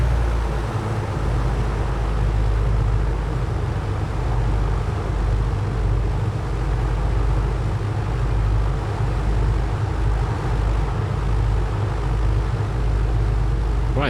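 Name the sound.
A2A PA-60 twin-engine aircraft engines running in MSFS 2024 video game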